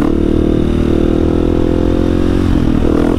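Husqvarna 701 single-cylinder motorcycle engine held at steady revs during wheelie practice, a loud close buzzing drone with slight pitch shifts and a rise near the end.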